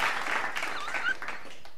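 A short burst of applause, a dense wash of clapping that holds steady for under two seconds.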